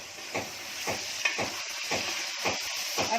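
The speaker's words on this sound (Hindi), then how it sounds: "अब 1 मिनट के लिए आलू डाल रही हूँ भूनने के लिए।" Prawns and potatoes sizzle steadily in a hot pan, with a rhythmic stir-and-scrape about every half second, close and alone.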